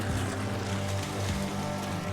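Gurgling churn of water from a pool bubbler blooming up at the surface, a soft steady burble held close and moderately quiet with no voices.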